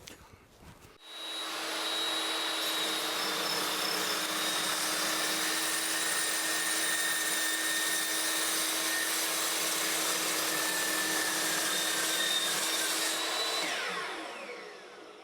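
An EvoMax S15 CP chop saw cuts aluminum with an aluminum-cutting blade. A loud, steady, continuous grinding whine starts after about a second, holds evenly for over ten seconds, then tapers off at the end. No talking is heard.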